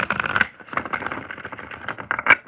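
A tarot deck shuffled by hand in two bursts of crisp, papery riffles and flicks, separated by a brief softer lull, close up and fairly loud with no voice over it.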